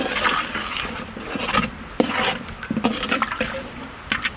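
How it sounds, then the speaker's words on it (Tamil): Tamarind water poured into a pan of eggplant curry masala cooked in oil, giving close splashing and liquid gurgles with uneven surges and a couple of sharp knocks. "புளி தண்ணியை சேர்த்துக்கலாம்."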